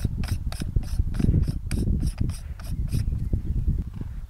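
A threaded part of a Lunt solar telescope is turned by hand, producing rapid ratcheting clicks and gritty metal rubbing up close. Low voices murmur underneath.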